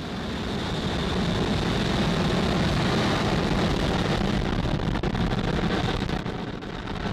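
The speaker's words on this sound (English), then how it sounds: "Ignition and liftoff." Falcon 9 rocket engines roar at liftoff on the SXM-8 launch, a loud, continuous, dense rumbling blast that holds steady for several seconds without voices.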